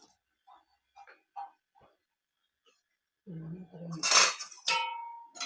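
A spoon scrapes and clatters in a pan while sharkara varatti, banana chips in jaggery, is stirred. It starts with a few faint taps, then turns louder and more continuous with sizzling, scraping bursts toward the end.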